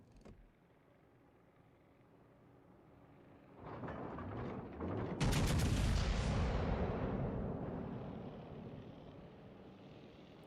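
Battleship rear main guns fire in a naval warship game: a first sharp blast, then a louder, heavier salvo of several booms that rolls into a long, fading rumble, with no talking.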